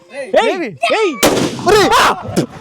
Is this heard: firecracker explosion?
yes